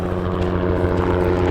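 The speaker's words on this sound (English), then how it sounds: "there's a helicopter." A helicopter passes overhead with a loud, steady low-pitched engine drone and rotor hum that stays constant through the short stretch, no talk over it.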